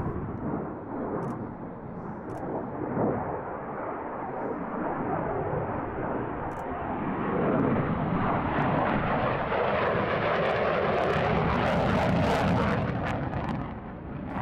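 A Saab 37 Viggen SK-37 two-seat trainer jet flies past at an airshow in Jersey, a loud broad roar that swells and sweeps through as it passes, with a faint voice underneath.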